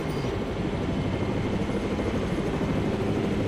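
Steady, continuous helicopter rotor drone from Jurassic World Evolution gameplay, loud and unchanging throughout, with no voices.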